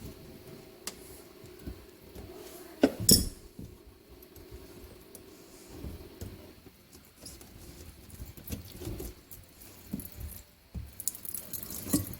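Water drips and patters from a leaky faucet supply valve connection under a sink, a sparse irregular series of small close drips and taps against a quiet background.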